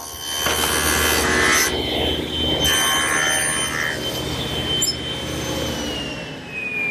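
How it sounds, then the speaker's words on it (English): Hand saw cutting a shallow tenon cheek across the face of a mesquite rail, a close rhythmic rasp of repeated strokes with a short pause partway through, no talking. "The first cut is on the face of the rail, 1 1/4 inches from the end and a 1/4 inch deep"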